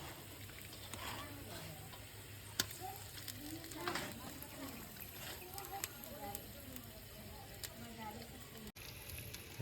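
Chicken meat dropped into hot oil already tempered with cinnamon and cloves, giving a faint, steady sizzle with soft crackles and occasional stirring clicks, quiet and close.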